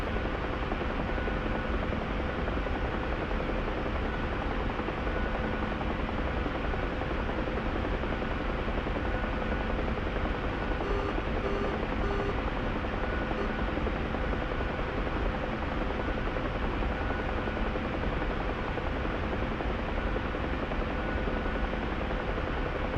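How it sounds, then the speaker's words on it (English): Helicopters hovering in a cargo slinging game, a constant dense rotor and engine roar with a steady hum, loud and unbroken throughout with no distinct approach or fade. "2, 3 helicopters. One is a lot closer."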